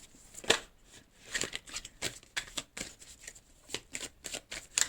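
Tarot cards shuffled close by in a series of crisp riffling bursts with short pauses between them, fairly quiet and without any voice.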